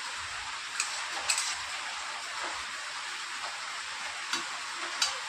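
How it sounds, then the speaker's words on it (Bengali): Potatoes fry on a gas stove in a Bengali home kitchen, giving a constant soft sizzle with a few light clinks and taps from stirring scattered through it. The sound is quiet and there is no talking. "দেখো আমি আলু ভাজা করছি"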